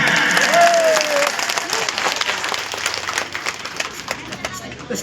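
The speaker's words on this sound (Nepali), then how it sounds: "एकपल्ट तालीले स्वागत नगरिसक्छौँ हामी, ल जोरदार" An audience at a village bhajan program breaks into loud, dense applause that gradually thins out, with a voice briefly heard over the start.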